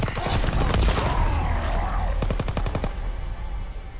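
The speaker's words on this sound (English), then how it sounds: "That was a cruddy gun that I got." Rapid bursts of gunfire from a gun in a zombie video game, sharp cracks in quick succession, loud and close at first, then thinning into spaced shots.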